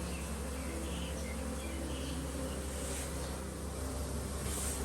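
Wild cavity-nesting honey bees (small forest bees) at a hive in Khao Yai give a continuous, dense, fairly faint buzzing hum that stays steady throughout, with no talking.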